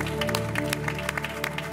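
A congregation claps together in a dense, steady round of applause, with faint voices mixed in.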